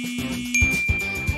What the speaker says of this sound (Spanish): ¿Y esas notificaciones?